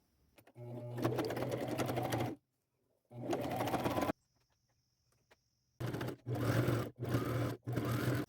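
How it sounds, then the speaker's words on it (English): A sewing machine runs a narrow zigzag stitch over neckties in several loud, close bursts of a second or two each, separated by quiet gaps and faint handling clicks. "I'm going to use my second to smallest zigzag stitch and just keep overlapping it as I sew"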